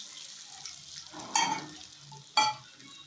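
Fresh curry leaves hit hot oil for a millet pongal tempering, a quiet background sizzle broken by two sudden, sharp crackling bursts about a second apart.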